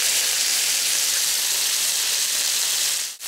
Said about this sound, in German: Unser Schweinefilet braten wir jetzt von allen Seiten einmal richtig scharf an.